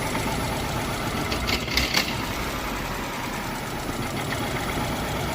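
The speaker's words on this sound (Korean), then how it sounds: "엔진 소리가 깨진 것 같지 않고" A car engine running rough during a repair diagnosis, with a loud, continuous uneven idle and knocking texture, plus a brief louder surge in the middle, close up and with no talk.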